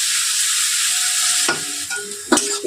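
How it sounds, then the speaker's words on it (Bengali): Onions fry in a pan for a potato curry, giving a steady close sizzle, then a couple of sharp scraping stirs near the end. "দিয়ে আমরা ভেজে দেবো পেঁয়াজটা"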